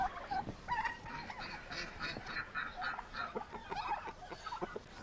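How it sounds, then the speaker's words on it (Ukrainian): A busy farmyard chorus of chickens, ducks, geese and turkeys in snow, quacks and honking calls overlapping continuously, fairly close, with no talking. "Подивимося, що роблять мої пернаті."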